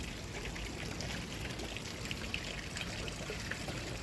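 Mulch glue pours steadily into a gallon sprayer container already holding water, making a continuous close liquid trickle with faint splashes and no talking.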